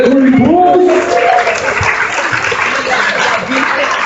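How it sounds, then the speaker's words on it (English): Applause for the graduate report at a school PTO meeting, a steady wash of clapping from a small gathering, with a voice speaking over its start and some murmuring. "One last round of applause, please, for the 2013-14 graduate report."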